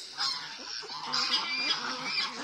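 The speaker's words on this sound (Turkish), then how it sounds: "Şimdi kazlar benden korkuyor." Several Kars geese honk nearby in overlapping nasal calls, a busy flock chattering with no speech.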